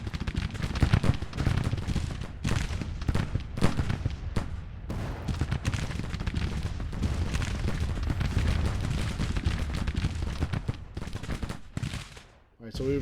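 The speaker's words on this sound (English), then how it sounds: "a nasty firefight between Slack's Brigade and 1st Brigade, 2nd Division" Dense, continuous musket volleys and artillery booms roar throughout a brigade-level firefight in the Civil War strategy game Grand Tactician, a sustained crackling barrage with heavy low rumble that eases briefly near the end.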